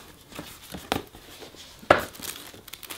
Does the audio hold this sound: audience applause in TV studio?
no